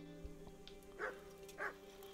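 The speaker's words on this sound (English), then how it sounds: "And there is a dog." A dog in the medieval game Kingdom Come Deliverance gives two faint, fairly distant barks about half a second apart over a quiet ambient hum.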